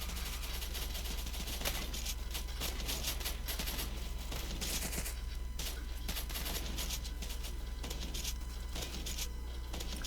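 Repeated gunshots from a tier 3 gun in Roblox Zombie Uprising, a steady series of sharp reports over continuous game background noise, with no talking.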